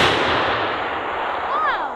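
A loud, sustained crackling burst of exploding Diwali firecrackers, dense and harsh throughout, with a brief rising whistle near the end.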